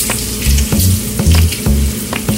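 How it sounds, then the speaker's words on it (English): Bacon sizzles and fries steadily in a pan, a close, continuous crackle with regular low thumps as strips are turned with tongs, no talking. "that bacon is cooking very nicely"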